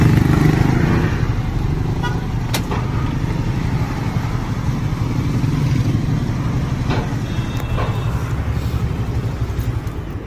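A motorcycle rides through city traffic, its engine a loud close continuous drone, with short car horn toots breaking through now and then.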